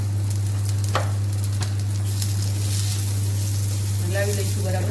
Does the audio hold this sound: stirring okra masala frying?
yes